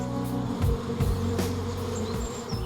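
Bees buzzing in an English garden at Longmeadow, a dense insect drone close to the microphone, with a few passing swells as individual bees fly near.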